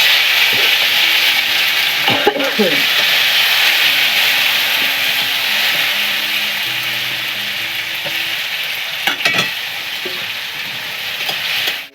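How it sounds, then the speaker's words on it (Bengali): Loud, continuous sizzling as tomatoes fry in hot oil in a kadai with bay leaf and panch phoron, a bright steady hiss with brief stirring scrapes around the pan. "কড়ার মধ্যে তেলটার মধ্যে তেজপাতা পাঁচ ফোড়ন দিয়ে দিয়েছি এবার টমেটোগুলোতে দিয়ে দিচ্ছি"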